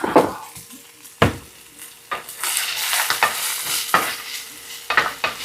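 Rapini with garlic and crushed red pepper sizzles in a hot frying pan while a utensil scrapes and stirs it, with sharp clacks against the pan at irregular intervals over the constant frying hiss.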